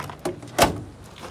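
A deep storage drawer on an Outlander Series II trailer slides on its runners, a short soft rumble ending in a single firmer knock, quiet and close with no talk.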